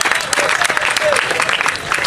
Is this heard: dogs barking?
no